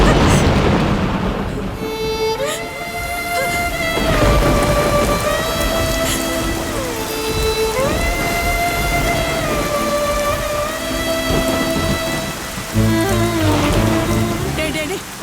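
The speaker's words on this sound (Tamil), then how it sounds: "மழை வேற பெய்யுது" Heavy rain with thunder pours steadily and loudly throughout, a dense wash of downpour under a melodic background music score, with no voices.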